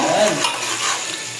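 Food is sautéed in a hot pan, producing a loud, close, crackling sizzle with stirring that fills the whole brief moment without any voices.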